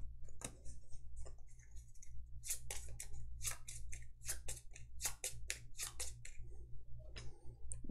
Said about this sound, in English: Do a quick pile shuffle.